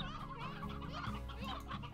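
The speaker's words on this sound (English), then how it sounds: "Hi, chickens! Bye, chickens." Chickens cluck softly in the video game Slime Rancher, a faint, busy stream of overlapping clucks with no talking over them.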